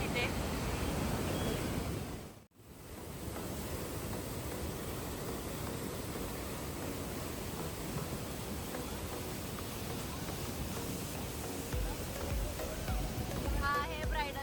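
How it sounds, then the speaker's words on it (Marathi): Bridal Veil Falls at Niagara roars as a continuous broad rushing wash of falling water, heard close from a tour boat, with a brief dropout early on and voices talking over it. "हा आहे ब्रायडल फॉल, छोटा आहे तो."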